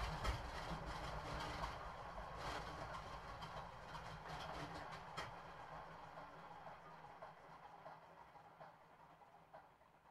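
A P-47 Razorback piston engine in Microsoft Flight Simulator idles on the ground, giving a steady rough rumble with faint rhythmic clatter, gradually easing down in level and heard alone without talk.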